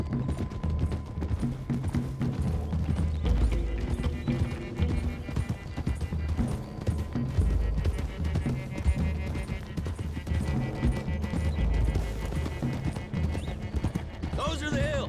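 Horses' hooves clip-clopping in Red Dead Redemption 2, a steady rhythmic trot from several horses close by, with an occasional whinny and a low musical score underneath.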